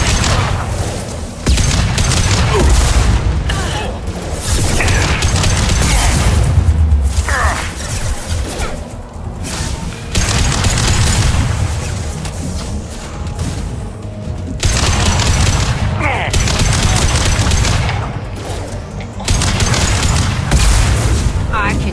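Heavy gunfire in an ambush firefight in the video game Mass Effect 2, loud repeated bursts of shots and booms in several waves with short lulls, while a player talks over the action.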